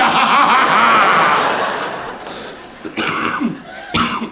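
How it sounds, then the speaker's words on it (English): A loud, harsh noisy outburst followed by several rough coughs and snorting, chuckle-like bursts, close to the microphone. "you cough and die"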